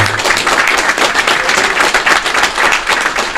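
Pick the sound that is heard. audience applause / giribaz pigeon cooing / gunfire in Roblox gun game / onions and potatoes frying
audience applause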